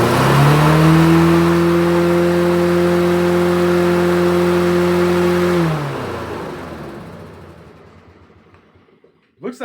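A Honda lawn mower engine salvaged from the trash runs at a steady high idle with a strong buzzing drone, then cuts out and winds down to near silence, followed by a brief clatter at the end.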